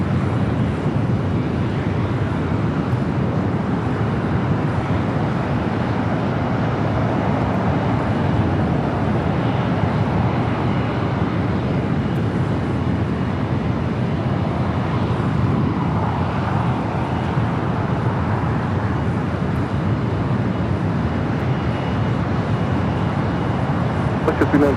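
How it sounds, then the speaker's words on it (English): Steady broad engine roar of an SAS Airbus A330-300 taking off from runway 24 left at Los Angeles airport, a continuous distant rumble holding even throughout without clear rise or fade. "We got SAS heading back to Copenhagen, the A330-300 heading up to the north side. We'd be taking off 24 left."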